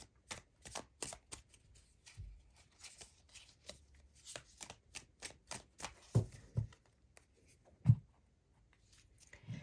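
Tarot cards being shuffled by hand, a close run of crisp riffling flicks and soft slaps at irregular intervals, with a few louder knocks as the deck is squared, no talking.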